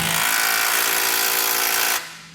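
An impact wrench spins down a factory subframe bolt on a 2012 vehicle during a base plate install, one loud continuous whir that cuts off abruptly near the end.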